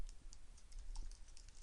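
A computer keyboard being typed on as code is entered, with quick, light, irregular key clicks, close but quiet over a low steady hum.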